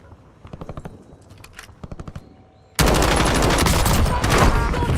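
Video game gunfire comes after a few seconds of quiet tapping, erupting into loud, continuous rapid automatic bursts that fill the rest of the moment, with no talking.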